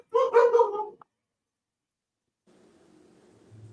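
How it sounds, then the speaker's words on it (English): A dog gives a quick burst of close barks lasting about a second, followed by silence and then faint low rumbling. "That's my dogs barking"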